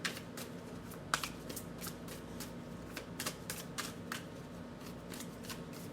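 Oracle cards are shuffled for a one-card reading, producing soft, close riffling and repeated crisp slaps and flicks in an irregular rhythm against quiet background hiss.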